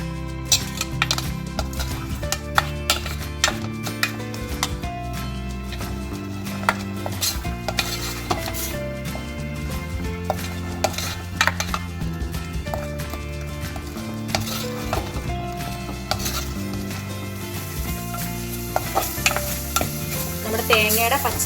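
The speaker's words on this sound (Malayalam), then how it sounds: "ഇനി നമ്മൾ ഇത് തേങ്ങ നന്നായിട്ട് അതിൻ്റെ പച്ച മണം മാറുന്നത് വരെ ഇളക്കി കൊടുക്കുകയാണ് ചെയ്യുന്നത്" Ground coconut, garlic and ginger paste is stirred with ash gourd in a pan, a spoon scraping and tapping in an uneven rhythm over a soft continuous sizzle, close up and sustained.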